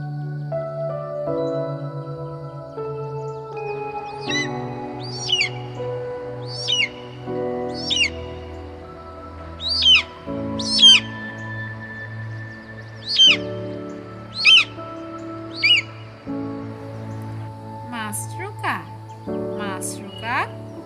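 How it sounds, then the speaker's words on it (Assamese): A kite gives a series of high, thin descending whistles, repeated about ten times at fairly regular intervals, with a voice speaking beneath the calls. "চিলনী চিলনীক ইংৰাজীত কয়"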